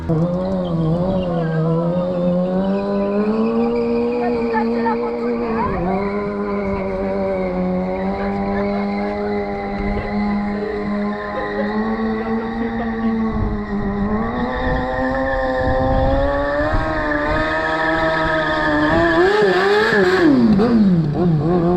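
A Fiat 500 revving hard while its tires, one of them worn, squeal and skid across a parking lot; the engine drone holds steady and loud, climbing in pitch toward the end, close by with no voices.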